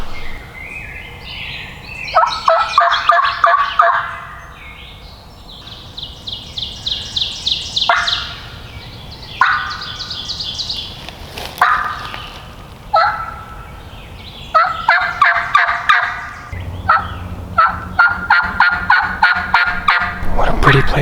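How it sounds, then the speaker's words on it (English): Wild turkeys gobbling outdoors in New York State during a spring hunt, a series of loud, rattling calls in repeated bursts across the woods, some close and some farther off, with no talking. "So hopefully the next spot we'll hear something gobble."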